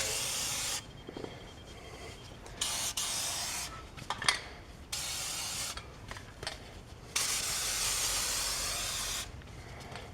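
Fluid Film rust protection is sprayed onto a Chevy Trax front brake rotor in several long aerosol hisses separated by short pauses, close and fairly loud.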